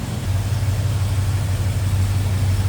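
1986 Chevrolet K10 pickup engine with headers idling nearby, a steady low-pitched hum with a faint, even pulse and no talk.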